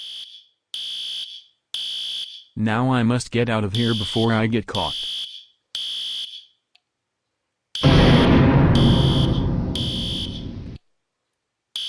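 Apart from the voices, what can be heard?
hotel fire alarm ringing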